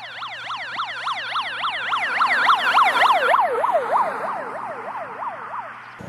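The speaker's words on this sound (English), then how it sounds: "This time, I have a police siren at 40 miles an hour." Police siren on a vehicle passing at 40 mph, its rising and falling wail sweeping steadily, growing louder, then dropping in pitch as it goes by; no voices.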